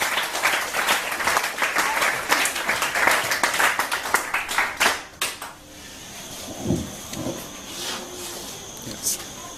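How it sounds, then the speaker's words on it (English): A church congregation bursts into loud, dense applause for about five seconds, then the clapping thins to scattered claps as a voice speaks over a quieter room. "please, give an awesome clap for Jesus for this clap"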